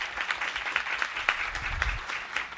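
Audience at a civil procedure law congress talk applauds continuously, a dense, even patter of many hands clapping throughout.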